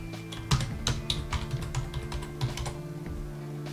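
Keystrokes on a Mac computer keyboard while an email address and password are entered, a steady run of light clicking taps with brief pauses, close and fairly quiet over a low background hum.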